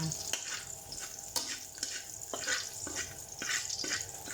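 Garlic is sautéed until golden brown for a chicken curry. A continuous sizzle runs under sharp, repeated clinks and scrapes of a utensil stirring in the pan.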